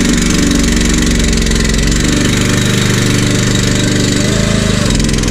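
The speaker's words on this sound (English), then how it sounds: "So rev the machine up," A Slanetrac HT1000 dumper's engine runs loud and steady, its throbbing mechanical drone rising slightly in pitch as the machine is revved, with no talking over it.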